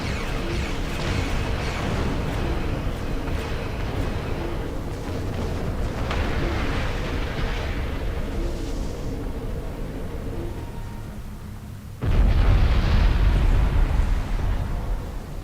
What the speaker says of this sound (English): That was a glorious explosion!